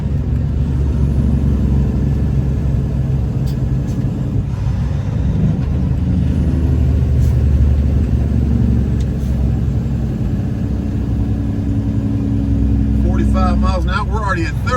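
A semi truck's diesel engine drones steadily and loudly after a downshift, with low rumble throughout and a brief higher-pitched mechanical rattle near the end.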